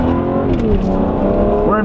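A car fitted with a homemade leaf-blower turbo revs hard while being driven aggressively on city streets, the engine loud and close, with tonal revs rising near the end and voices talking throughout.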